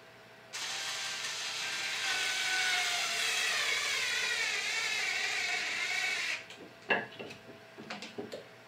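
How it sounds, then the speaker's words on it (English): A Black+Decker 20V MAX LDX120C cordless drill/driver drives a deck screw, giving a close, steady whir for about six seconds, then a few short clicks and knocks. "power on this one is very low and slows down when you're trying to drive a deck screw"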